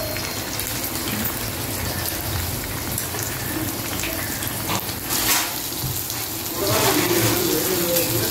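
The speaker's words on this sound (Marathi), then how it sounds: "पनीरसोबत आपला मसालाही तळून तयार होतो." Paneer cubes frying in hot oil with tomato, onion, ginger, curry leaves, garlic and green chillies give a steady dense sizzle and bubbling throughout, swelling slightly near the end.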